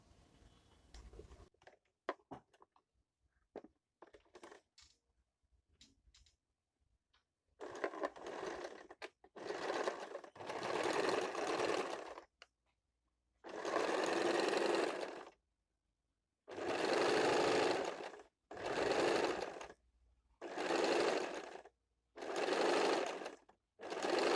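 A sewing machine stitching the sleeve of a designer blouse runs in a series of short bursts of whirring, loud and close, separated by brief pauses, after a few soft handling clicks at the start.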